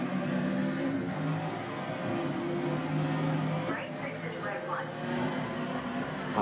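Race car engine in the video game Forza Motorsport heading into a left turn, a continuous droning engine tone with steady harmonics that shift pitch as revs change, with a faint voice talking underneath.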